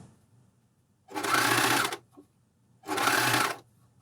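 Juki coverstitch machine sewing elastic onto knickers, with two close, even bursts of rapid needle stitching of about a second each, separated by a quiet pause with a faint click.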